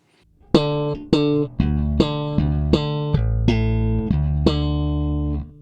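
Electric bass from Alien Audio with its tone knob rolled down and the preamp shelving off the treble, playing a series of sustained, dark, rounded notes, each plucked attack ringing out one after another with no talk.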